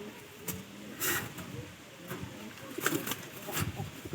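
Pigeons, including egg-laying birds kept for sale, coo in soft low bursts nearby, mixed with rustling and handling noise and some background talk.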